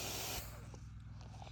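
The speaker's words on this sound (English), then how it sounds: "That's the air of the compressor." Compressed air from a compressor blows out of a system: a faint, steady broadband hiss that is strongest at the start and eases slightly after a moment, with no talk.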